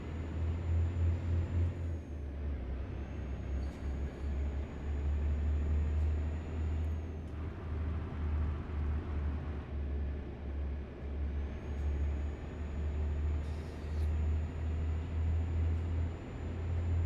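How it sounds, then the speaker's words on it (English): A truck drives along an open road in American Truck Simulator, giving a steady low engine drone with a soft rumble of road noise, close and continuous, with small dips as it shifts. "I can hear the truck now"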